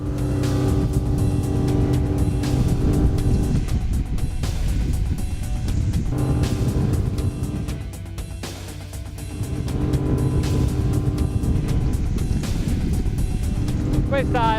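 Ranieri Next 290 SH motorboat with twin Suzuki 350 hp engines and counter-rotating propellers running at full speed, around 36 to 37 knots, a loud continuous engine roar with a brief dip midway, under music or talk.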